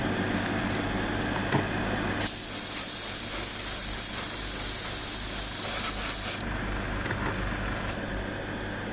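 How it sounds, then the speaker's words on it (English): An airbrush sprays Mr. Color 182 flat clear coat onto a model kit figure, a steady close hiss lasting about four seconds over a faint background hum. "what I'm doing now is just giving her a flat coat with flat clear, Mr. Color 182"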